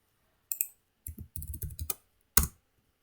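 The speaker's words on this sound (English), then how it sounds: "I'm typing here." Someone types on a computer keyboard while writing a Python program, giving quiet, close key clicks: a short tap, then a quick run of keystrokes and a final sharper press.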